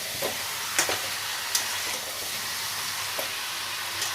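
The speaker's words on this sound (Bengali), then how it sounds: "এটা দিয়ে আরও একবার ভালো করে কষিয়ে নেবো, যাতে মশলাগুলো মাংসের ভেতরে ঢুকে যায়।" Mutton sizzling and frying in a pan with ground spices as it is stirred, a steady close hiss broken by a few sharp scrapes and clinks of the spoon, with no talk.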